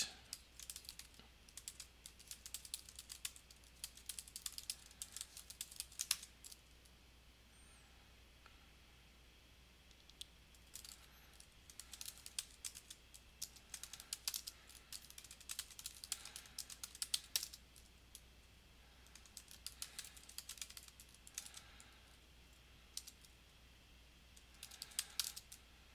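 Computer keyboard typing while writing code, quick bursts of keystrokes separated by short pauses, close and fairly quiet against a steady low hum, no talking.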